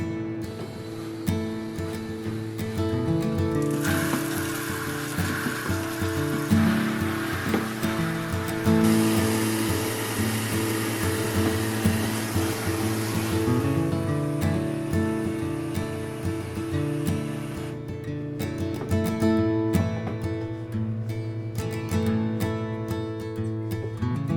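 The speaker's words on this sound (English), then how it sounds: "we will fill this bucket up the rest of the way with water" Tap water pours steadily into a bucket of homemade laundry detergent in a home kitchen, a loud continuous rushing gush that runs for several seconds and then stops.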